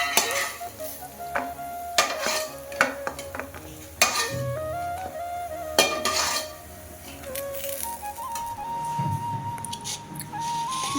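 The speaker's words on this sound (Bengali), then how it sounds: "একইভাবে সব বড়াগুলি ভেজে নিয়েছি।" Prawn and lentil fritters frying in hot oil, steady sizzling with clinks of a utensil against the pan and stirring scrapes, close and moderately loud with no talking.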